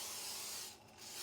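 Cooking oil sprayed onto an appam pan for Pesaha appam, a soft steady close hiss that dips briefly near the end before resuming.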